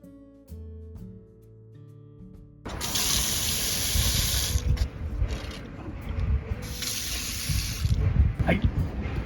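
Outdoor garden faucet fitted with a two-way splitter, water bursting on after a few quiet seconds into a loud, steady, close rush that splashes and gushes without a break.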